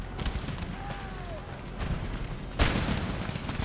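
Massed line-infantry musket volleys in the strategy game Empire: Total War, rolling crackles of gunfire with a sharp louder volley late on, over a dense battle din.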